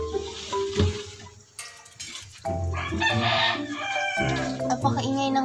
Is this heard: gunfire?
no